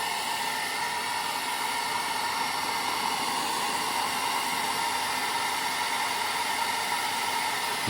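Hair dryer running on a low setting to push around and dry wet weathering paint on a Trade Federation AAT scale model, a steady close whooshing roar with a faint whine held for the whole stretch.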